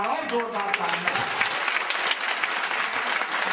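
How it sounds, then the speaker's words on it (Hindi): Applause from an audience at a Hindi kavi sammelan poetry gathering, a dense steady wash of clapping throughout, with a voice faintly audible at the start. "एक बार और जोरदार तालियां"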